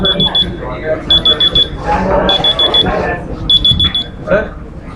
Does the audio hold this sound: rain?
no